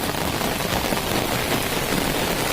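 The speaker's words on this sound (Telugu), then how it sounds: "ఇక్కడికి ఈ పోరున జోరుగా వాన." Heavy rain pours down at night in a steady, dense, even hiss that stays loud and unbroken, with no voices.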